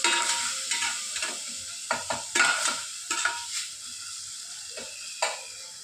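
Chili powder, coriander powder and spices being stirred in a hot pan, with a spatula scraping and tapping in irregular strokes over a light, continuous sizzle, near and loud, with no talk.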